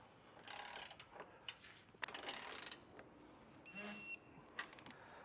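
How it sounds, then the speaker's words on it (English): A hand ratchet snugs down base plate bolts on a 2022 Jeep Grand Cherokee WL, giving quick bursts of rapid clicking, quiet and close, with a short mechanical whir midway. "So just with a ratchet, I'm going to go ahead and get these snug down."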